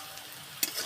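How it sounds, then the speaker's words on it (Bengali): Chilli, onion and garlic being stirred in oil left from frying fish: a quiet sizzle with one brief scrape of a spoon near the end. "মাছ ভাজা তেলে আমি এগুলো দিয়ে আগে একটু নাড়াচাড়া করে নেব।"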